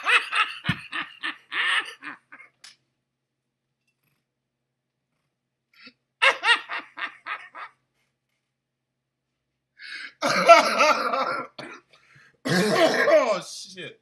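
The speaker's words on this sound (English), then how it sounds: "I still got the COVID cough." Bouts of harsh coughing and throat clearing from a man with a lingering COVID cough, close and loud, coming in short clusters separated by long silent gaps.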